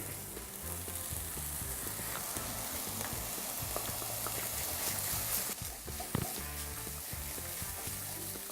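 Mushrooms sizzle and fry in a hot pan alongside parboiled spinach, a steady close crackle with occasional stirring clinks, no voices over it.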